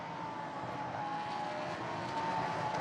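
Lamborghini Super Trofeo race cars roar past at Imola in a steady, loud, sustained engine drone with no break, heard alone without any voices.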